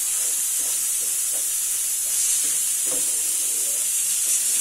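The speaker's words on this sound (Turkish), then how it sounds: "Şöyle etini kaynıyor." Meat boiling in a pot gives a steady bubbling hiss, with faint popping and gurgling under the constant steamy noise.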